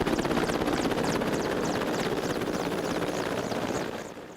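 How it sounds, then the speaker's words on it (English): A Mi-8 military helicopter flying at low altitude and low speed over war-damaged villages in eastern Ukraine, its steady loud rotor thump and turbine roar continuous throughout before easing slightly at the end. "The Mi-8 helicopters are refueled and rearmed."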